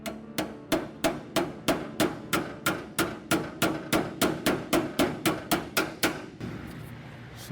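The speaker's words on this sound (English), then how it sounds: "All right, let me get my hammer." Steady, evenly spaced hammer blows tapping down a Ford truck body panel during an F100 to F150 body swap in a fabrication shop, about twenty sharp, loud metallic strikes in quick rhythm, then stopping near the end with only faint room noise.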